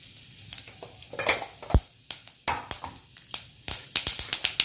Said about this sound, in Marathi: मोहरी तडतडले मोहरी तडतडल्यानंतर